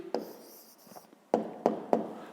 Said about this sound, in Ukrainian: Ну, а тепер записуємо відповідь.